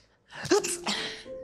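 A woman sneezes once indoors, close and fairly loud, with a quick intake of breath followed by the burst and a short trailing voiced sound.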